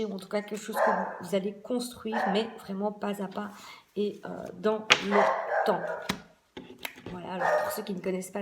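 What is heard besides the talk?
dog barking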